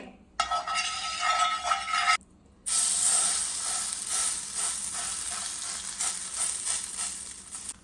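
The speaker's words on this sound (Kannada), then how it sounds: "ಕಾವಲಿ ಕಾದಿದೆ ಈಗ ತೆಂಗಿನೆಣ್ಣೆ ಹಾಕ್ತಿದ್ದೇನೆ" Coconut oil poured onto a hot dosa griddle on a gas stove crackles and sizzles loudly, a bright hiss that cuts out briefly then returns and settles into steady frying.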